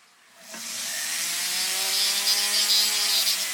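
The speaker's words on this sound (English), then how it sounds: "I take a sander. It's just got a little tiny sanding wheel here." A small, foot-pedal-driven sanding wheel grinds down a metal lock pick handle, spinning up with a rising whine and then holding a steady, close abrasive rasp.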